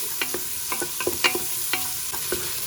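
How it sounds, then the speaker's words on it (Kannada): Onions frying in oil inside a pressure cooker, with a steady close sizzle and a series of sharp stirring scrapes and clinks at irregular intervals, no voices. "ಕುಕ್ಕರ್ನ ಎಣ್ಣೆ ಮತ್ತು ಈರುಳ್ಳಿ ಹಾಕಿ ಫ್ರೈ ಮಾಡ್ತಾ ಇದ್ದೀನಿ"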